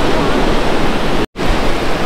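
Sea water surges in over a shoreline along Scotland's NC500 coast, a loud, close, continuous broadband wash of surf and rushing water with a brief sudden cut near the middle, no voices.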